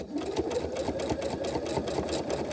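A sewing machine runs a zigzag stitch along the right edge of fabric at narrow stitch width, a close, steady mechanical whir with fast rhythmic needle clatter throughout, no voices over it.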